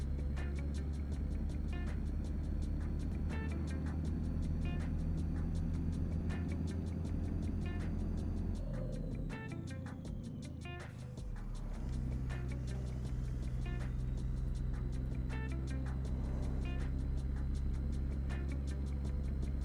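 Scania R truck with a 460 horsepower V8 engine in Euro Truck Simulator 2, driving in Iceland: a steady, loud low engine drone with a brief dip partway through, continuing alone without talk.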